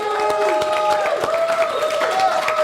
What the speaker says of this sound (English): big hand for Lenny Travis. Big round of applause.